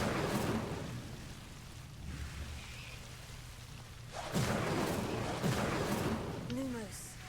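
The Incendio fire spell is cast in a Hogwarts video game, bursting with whooshing, crackling flames over a low rumbling game ambience. Two strong blasts come in quick succession after a quieter stretch.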